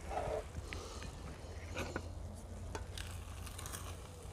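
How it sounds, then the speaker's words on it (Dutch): A pan on a stove burner, with wild plants cooking, sizzles as it boils dry: a soft, steady crackling hiss held at low level throughout. "hij is al aan het droog koken"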